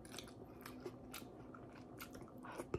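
Close, quiet chewing of pancit palabok, a Filipino noodle dish, with soft wet bites and small crunchy clicks recurring irregularly over a low background hiss.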